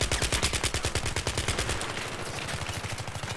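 Rapid automatic gunfire from a Battlefield 3 weapon, close and loud, a steady stream of evenly spaced shots that shifts to a slightly different, quicker burst halfway through, with no talking.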